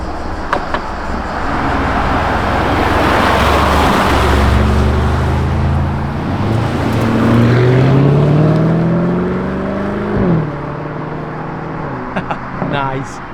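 A camouflaged Lamborghini Urus hybrid prototype drives past on the road, its engine note swelling loud and near, then sweeping down in pitch as it passes. Louder engine revs and gear changes follow, with faint voices at the edges.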